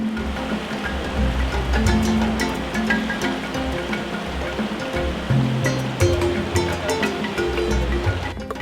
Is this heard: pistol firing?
no